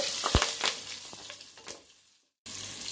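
Cumin seeds crackling and popping in hot oil, a close, busy sizzle with sharp pops, cutting off briefly before the frying resumes.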